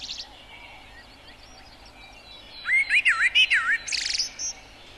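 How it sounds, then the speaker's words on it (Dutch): Garden birds singing in winter: a faint early call, then a clear run of bright warbling phrases and sharp chirps from a nearby bird, alone in a quiet outdoor setting. "U hoort tevens van alle vogels hun gezang dat zij normaal in lente en zomer"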